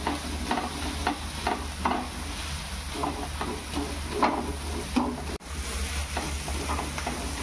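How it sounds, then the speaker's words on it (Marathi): Vegetables for masala pav cook in a pan with a steady sizzle, while a spoon scrapes and stirs in an uneven rhythm of close, clattering strokes. "ही सगळी भाजी व्यवस्थित शिजली पाहिजे।"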